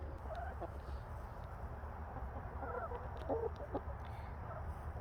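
Chickens clucking in a backyard coop beside an orchard, with scattered short calls and cackles rising over a steady low rumble of background noise, fairly faint and without talk.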